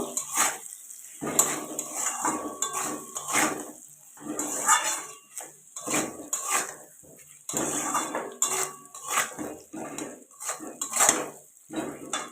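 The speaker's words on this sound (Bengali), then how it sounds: "হলুদের গুঁড়ো দিয়ে দিলাম দিয়ে একটু কষিয়ে নেব" Turmeric powder being sautéed for a fish curry of lilon tika fish with potato, pointed gourd and drumsticks, heard as repeated metal spoon scrapes and clanks against the pan in bursts, with a faint sizzle between.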